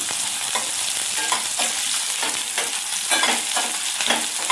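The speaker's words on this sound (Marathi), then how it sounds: "याच्यामध्ये हिरवी मिरची छान परतून घ्यायची आहे" Green chillies with onion and crushed garlic sauté in a pan, a loud close sizzle pulsing with rhythmic stirring strokes over several seconds, no voices.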